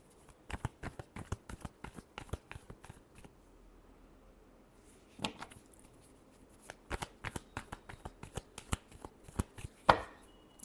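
Tarot cards are shuffled close by in quick crisp riffles and taps, repeated in several bursts with short quiet gaps.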